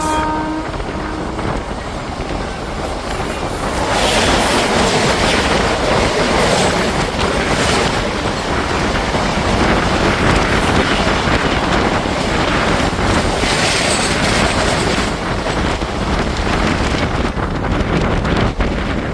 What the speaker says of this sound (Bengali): ট্রেন আমাদের ছেড়ে যাচ্ছে আহমেদপুর জংশন